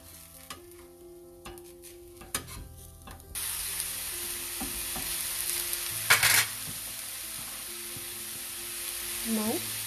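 Pudla, a chickpea-flour pancake with vegetables, sizzling on a hot pan after being flipped, a steady broadband hiss that jumps louder partway through with a few scraping stir sounds.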